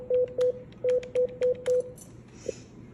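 Telephone keypad dialing a call to the White House comment line, six clear, evenly paced touch-tone beeps heard close, followed by a faint click.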